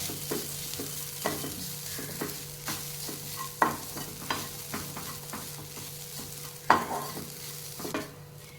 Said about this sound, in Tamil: இப்போ நெய்ல நம்ம நல்லா வதக்கிக்கலாம்.